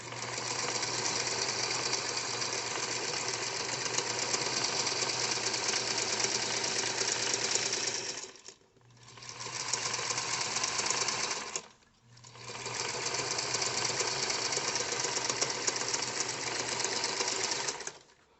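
A sewing machine stitches the top of a crossbody purse, outer fabric faced together, running in a loud, steady whir for several seconds, pausing briefly twice, then resuming close up with no talk.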